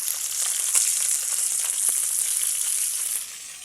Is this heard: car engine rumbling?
no